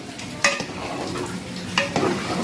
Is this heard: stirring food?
yes